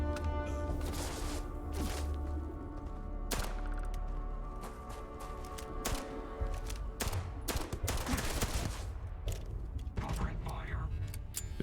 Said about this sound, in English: Good old-fashioned gun.